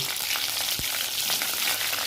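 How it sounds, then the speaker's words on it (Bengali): Eggplant pieces fry in hot oil in a pan, a loud, steady close-up sizzle with a brief stirring knock partway through. "বেগুনগুলো ভাজতে হবে"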